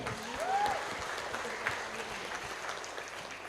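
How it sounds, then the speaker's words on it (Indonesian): An audience at a formal ceremony gives a steady, moderate wash of applause from many hands. It stays fairly even over a few seconds, with faint voices underneath. "Tepuk tangan."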